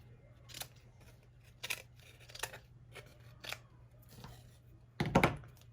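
Scissors snip several times at uneven intervals over a faint hum, cutting material for a fall design kit, the last cut louder and closer.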